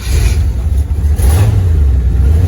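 A 1948 Chevrolet 3100 short-bed truck with a small-block V8 350/400 fires up, its deep rumble swelling into a loud, close revving idle.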